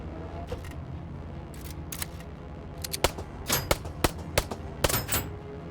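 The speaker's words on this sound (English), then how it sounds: "I come here and shoot him with the pistol." Pistol firing in the sci-fi noir game Aether & Iron: a quiet start, then a series of crisp, sharp shots in an uneven rhythm, about eight to ten cracks clustered in the last few seconds.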